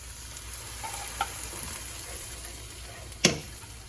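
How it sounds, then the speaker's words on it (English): Stock stirred through a simmering pan of Moroccan spiced vegan shepherd's pie filling, with a constant soft sizzle broken by a faint scrape and then one sharper, louder utensil knock near the end. No voices. "So give the stock a stir."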